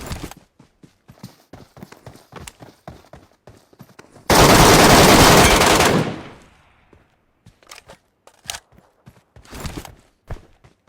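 Gunfire from PUBG Mobile crackles as a string of quick sharp shots, then breaks into a loud sustained burst lasting nearly two seconds before more scattered pops. No one speaks.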